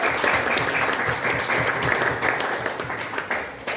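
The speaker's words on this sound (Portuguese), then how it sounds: "Vamos dar uma salva de palmas para o nosso guarda." An audience at a youth church event applauds a guest with dense, continuous clapping that holds steady and fades slightly toward the end, with faint talk underneath.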